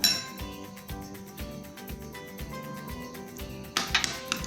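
A spoon clinks repeatedly against a bowl while curd is whisked with salt and black pepper powder, a steady close tapping rhythm that turns louder at the end.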